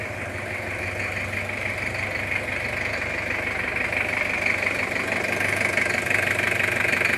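A Toyota Kijang 2L diesel engine, freshly assembled, idles with a steady, even low rumble and a light knocking clatter that holds constant throughout, close by with no talking.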